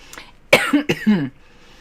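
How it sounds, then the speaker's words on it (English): A few close, harsh coughs in quick succession, loud and raspy against near silence. "I hope this cough is done by Sunday"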